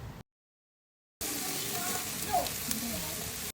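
Pork and chicken barbecue sizzles on a grill, a steady close hiss and crackle that starts after a short silence and runs on evenly.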